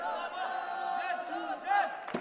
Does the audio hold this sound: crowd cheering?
yes